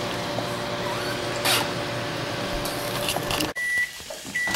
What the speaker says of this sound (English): just pop them in the microwave here